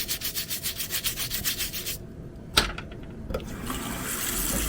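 Toothbrush scrubbing a laser-engraved stemless wine tumbler, a steady run of about ten quick rhythmic rubbing strokes up close, then a brief pause broken by a sharp knock and a faint clink, then a softer continuous wash of scrubbing.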